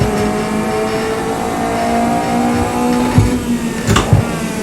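Race cars roll off the grid at the start of a 10-lap video game race at Alton Park with a 27-car field, a steady, dense engine drone with a few louder revving surges late on.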